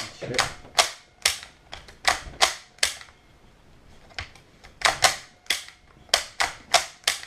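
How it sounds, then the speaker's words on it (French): Sharp, close mechanical clacks ring out from the bolt of a KWA/ASG MP9 airsoft gun being pulled back and released, repeated in quick bursts with a brief pause midway. "Après pour regarder, vous tirez la culasse."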